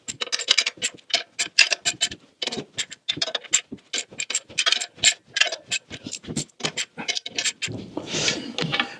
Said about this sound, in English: I'm now torquing the pressure plate bolts to 16 foot-pounds.